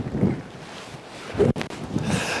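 Strong wind on a golf course, buffeting the microphone in uneven gusts with a couple of sharp knocks, loud and close, no talking.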